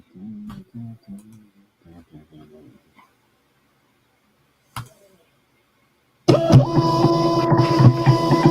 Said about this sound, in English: It was like an industrial printer, bro. It sounded like it.